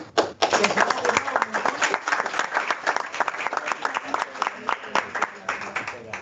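Applause from a small group of students at the close of a classroom coding session, sharp separate claps filling the room, fairly close and steady, with brief voices mixed underneath.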